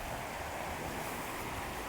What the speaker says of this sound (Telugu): వాటర్ ఫ్లో అయితే ఉంది